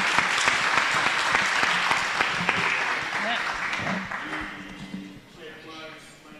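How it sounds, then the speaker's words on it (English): A round of applause for panelists after a climate transition panel discussion, a steady dense clapping crowd that slowly thins and fades, with voices speaking over it toward the end. "let's give a round of applause to the great panelists here today"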